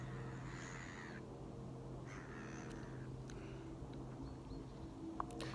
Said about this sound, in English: The birds are dancing.